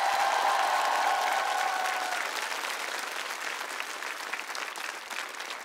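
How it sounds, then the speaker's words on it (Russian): A TV show studio audience applauds a finalist in a season final, dense, loud clapping that slowly thins as it goes on, with a brief cheer or voice mixed in at the start. "ваши аплодисменты!"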